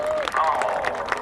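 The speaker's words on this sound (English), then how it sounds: "How about a big round of applause for the Dias base crew and the B-1B?" An outdoor crowd at an air show claps and cheers in a steady wash of applause, with a voice talking over it.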